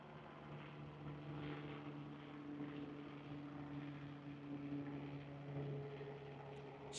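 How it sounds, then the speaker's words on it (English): A drone flies in sport mode at about 10 miles per hour, its propellers giving a faint, steady buzzing hum that holds throughout. "I'm in sport mode on the drone going about"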